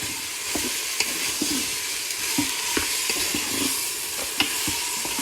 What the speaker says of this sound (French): Voilà, je fais revenir tout ça